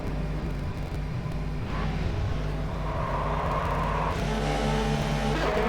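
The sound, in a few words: Ferrari racing cars going out on track, from a racing video game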